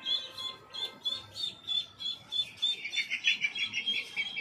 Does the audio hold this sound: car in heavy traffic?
no